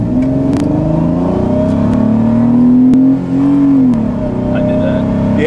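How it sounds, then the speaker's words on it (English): A Chrysler LeBaron fitted with a new intake accelerates at full throttle on the 405, its engine droning loud and steady as the pitch rises, eases slightly, then climbs again, heard from inside the car. "we're gonna try and accelerate out here on 405"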